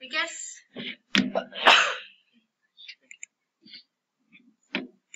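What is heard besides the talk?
sneeze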